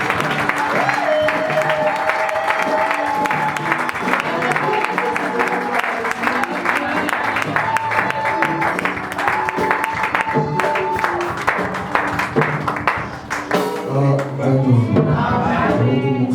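A church congregation applauding, dense rhythmic clapping mixed with singing voices and sustained music throughout, loud and close, with a shift in the voices near the end.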